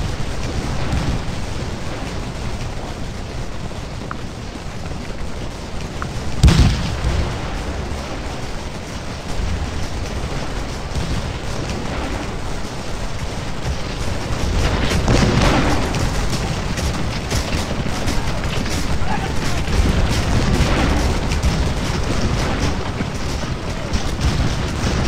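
Civil War battle din in the Scourge of War: Gettysburg game, with continuous rumbling musket fire and one louder booming blast of artillery early on, all dense and sustained, with the fire growing heavier later.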